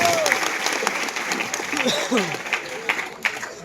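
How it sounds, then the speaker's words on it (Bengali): Audience applause at a school freshers' welcome comedy show, a steady wash of crowd clapping with vocal noise and brief voices mixed in, fairly close and moderately loud throughout. "একটা হাততালি সবাই সবাই মিলে"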